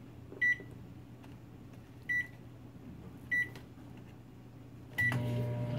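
Microwave oven with Mike and Ikes candy inside, three spaced electronic beeps over a low hum, then the oven starts running with a steady drone; quiet and close, no talk.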